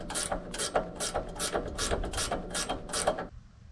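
Rapid ratchet clicks from removing the strut bolts on a 2021 Chevrolet Tahoe 2WD, about eight quick bursts in steady rhythm, close and clear, stopping abruptly near the end.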